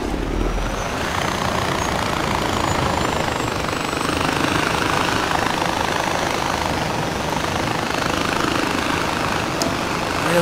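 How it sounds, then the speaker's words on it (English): Green helicopter flying in the video game Far Cry 4, a steady, loud rotor and engine drone with low thumping that holds evenly throughout, with no talking. "Oh yeah, I got a cool little green helicopter"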